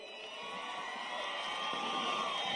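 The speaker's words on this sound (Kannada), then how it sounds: "ಇವರಿಬ್ಬರಿಗೂ ಸಿಕ್ಕಾಪಟ್ಟೆ ಜೋರಾಗಿ ಬರಲಿ ಚಪ್ಪಾಳೆ" Steady crowd noise with cheering and clapping from an outdoor audience at Hampi Utsav, a constant wash of sound that slowly grows a little louder, heard from a distance.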